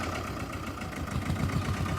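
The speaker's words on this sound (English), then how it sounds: "We got a little tractor we're going to show you tonight that you will not see anywhere else." A Fiat 221 orchard and vineyard tractor engine idles close by, a steady low rumble with a slight knocking pulse throughout.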